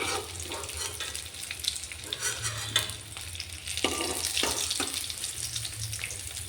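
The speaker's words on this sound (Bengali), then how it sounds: "এগুলো এইভাবে লাল লাল করে সুন্দর করে ভেজে নেব, মুচমুচে করে" Continuous bubbling and crackling of gram-flour-battered baby corn deep frying in oil, with occasional clinks and stirring scrapes, no voices.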